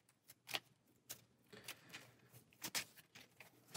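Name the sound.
shuffling a few playing cards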